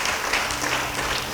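A church congregation applauds during a sermon, a dense wash of steady clapping that holds evenly through a short moment.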